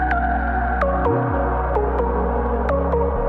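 Sine-wave synth pluck layered with unison voices in Serum, a dense continuous tone with a sustained low bass underneath and short pluck accents recurring over a few seconds.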